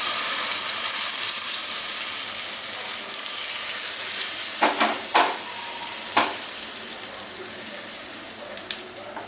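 Pati sapta batter sizzles steadily in a hot wok as it is spread, a continuous frying hiss with a few sharper scraping strokes, no talking.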